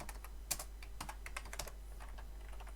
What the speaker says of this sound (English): I'll just type this in here again